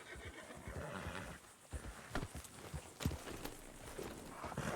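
A horse in the RanchRP video game whinnies and shuffles its hooves, its neigh and clopping steps sounding close and moderately soft over a busy ambient game background.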